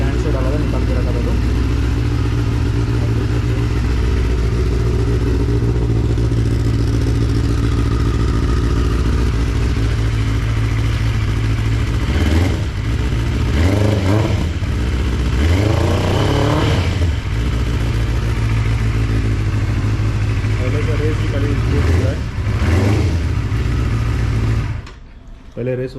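A Benelli 600i motorcycle with a misfiring engine idles steadily up close, a low uneven rumble that swells in a few short revs before cutting off near the end, with background clatter and people talking over it.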